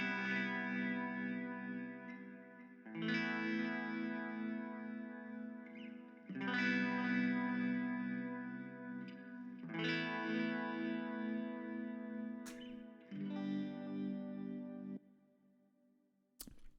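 An electric guitar played through a tremolo effect into a Mesa cabinet, miked with a 58, sounds four sustained chords in turn, each pulsing and wavering before the next one takes over, full and close.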